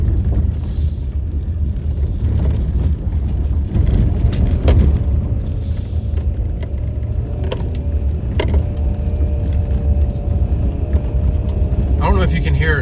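A car engine holds around 4,000 RPM in a loud, continuous interior rumble while turning, with occasional thumps and a voice talking over it.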